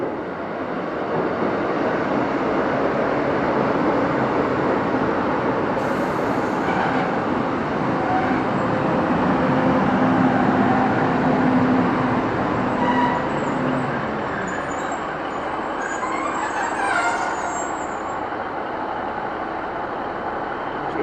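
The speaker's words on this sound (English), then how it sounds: "Next train to arrive in is a 156 and a 150 going to Manchester Oxford Road." Class 156 and 150 trains pull into Warrington Central station, a continuous broad rumble and rolling hum that stays loud and even for about twenty seconds, with faint squeals near the end.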